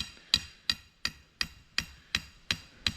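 Hammer tapping during a custom barn build, eight evenly spaced sharp metallic taps in a steady rhythm, close and clear with no talk.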